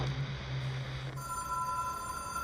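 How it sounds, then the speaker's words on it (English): A telephone rings steadily in the video game Control, a repeating electronic bell tone heard alone at moderate loudness, with its pattern shifting partway through before continuing. "That phone is ringing"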